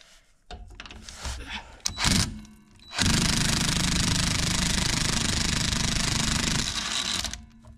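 A Volkswagen Golf engine cranks and then catches in a workshop, a steady loud rattling drone that follows a few seconds of clunks and handling noises, close to the listener.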